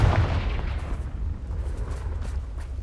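A Confringo spell detonates in the Hogwarts Legacy video game, one loud booming blast up front that rolls off into a rumbling decay over a few seconds.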